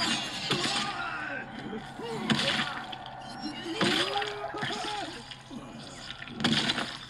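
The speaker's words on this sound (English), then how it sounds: "All the damn gurgling sound" Wet, gurgling gore effects from a Mortal Kombat 1 fatality, with squelching liquid bursts and splashes recurring in loud waves while a person reacts and talks over them.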